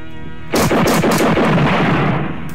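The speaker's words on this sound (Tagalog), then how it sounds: "Isang putok lang." A single loud gunshot in a dramatic film scene cracks out suddenly after a short quiet, then rolls into a long, booming, rumbling decay that fades slowly.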